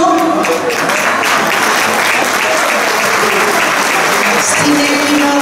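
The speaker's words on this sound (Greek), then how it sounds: "Αξίζει πραγματικά το χειροκρότημα όλων μας." Steady applause from an audience at an annual dance event fills the room, a dense, continuous wash of clapping that holds at a constant level throughout.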